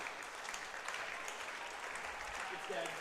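A steady spread of applause and cheering rises from baseball fans at a London Majors game against the Welland Jackfish in the top of the ninth, with a commentator talking over it.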